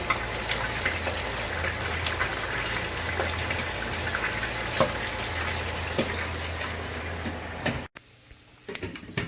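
Pork pieces for sisig fry in oil in the Philippines, a steady crackling sizzle with scattered pops as they are flipped, ending in a sudden near-silence after a brief break.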